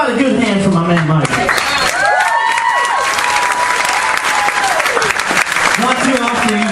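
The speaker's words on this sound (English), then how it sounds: "How about a good hand for my man Mike?" A live comedy-show audience gives comedian Mike a loud, sustained round of applause and cheering that fills the room, with a few voices shouting over the clapping.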